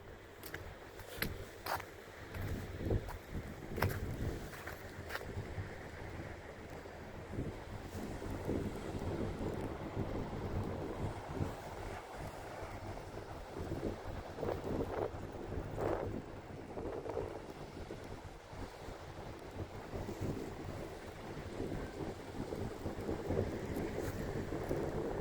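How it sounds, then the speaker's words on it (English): Heavy surf crashes ahead of a nor'easter blizzard, a continuous broadband roar of breaking waves mixed with strong wind buffeting the microphone, steady and fairly distant throughout. "look at the waves crashing over there"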